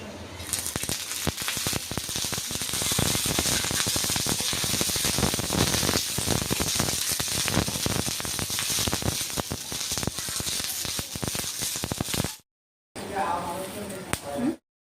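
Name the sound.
green chilies roasting in oil in a pan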